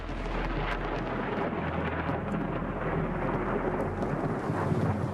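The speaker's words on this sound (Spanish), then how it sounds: "Los truenos, rayos y relámpagos son fuerzas de la naturaleza experimentadas por todos nosotros." Thunder rumbling during an electrical storm, a loud continuous low roll with rain hiss underneath, steady and close, no voices.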